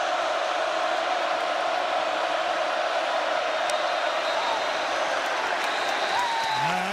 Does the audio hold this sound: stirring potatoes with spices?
no